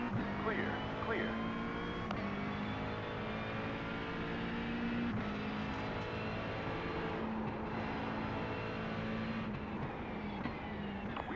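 In the iRacing video game at Daytona, an LMP2 race car closes in while the player's own car's engine drones steadily. Talk continues over the engine noise.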